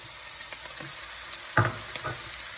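Onions frying in a pan, a steady low hiss of sizzling oil with a couple of brief stirring knocks and a louder clatter midway, close and moderately quiet.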